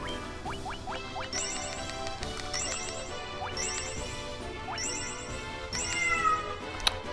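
A house cat named Seymour meows repeatedly, with several drawn-out, insistent calls in a rough rhythm, close by and fairly clear, along with a few light knocks and a sharp clatter near the end.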